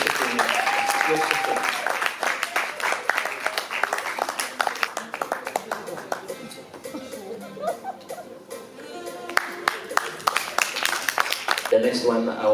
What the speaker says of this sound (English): A clap offering for Yusuf.